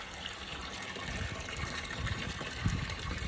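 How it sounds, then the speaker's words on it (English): Water runs steadily from a small pipe down into a tub, a continuous low, broadband gush at close range with no voices. "it then runs the water down into this tub"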